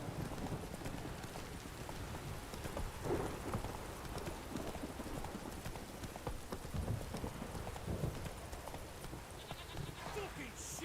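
Geralt's horse Roach gallops in The Witcher 3, with rapid, steady hoofbeats close up over falling rain and a voice speaking at times.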